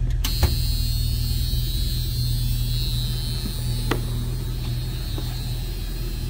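A 1972 Mercury Cougar XR7 convertible's 351 V8 idles smoothly in the open engine bay, a steady low rumble and hum with a few faint clicks, close and continuous throughout.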